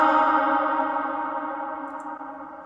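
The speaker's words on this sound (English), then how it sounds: "Then you add your reverb." A sustained, drawn-out vocal tone drenched in reverb, swelling and slowly fading with a washy, echoing tail, no other sounds.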